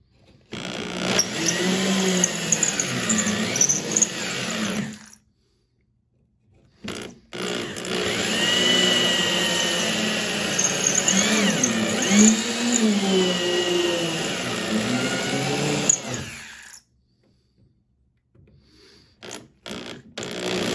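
A power drill bores out spot welds on a 1964 VW Bug convertible, whining loudly in two long, steady runs with short silent pauses between and brief bursts at the end.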